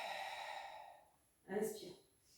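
A single sharp breath is drawn and pushed out during a Pilates exercise. It comes as a short, close, audible puff after a stretch of quiet room tone.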